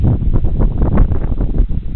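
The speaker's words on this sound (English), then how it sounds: "it is windy out, sorry about that" Steady, rumbling wind buffets the microphone throughout, a low, blustery roar with gusty swells and no clear voices.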